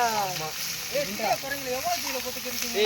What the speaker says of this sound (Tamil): போடு வெங்காயம் இதுல நிறைய போடலாம். போடு பிரான்ஸ். புகைது பிரான்ஸ். ரொம்ப சூடாச்சுல.